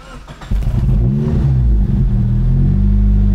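A 1993 Honda Civic Estilo, a locally built Indonesian model, cranks briefly and then fires into a loud, smooth, steady idle that continues to the end, with no voices.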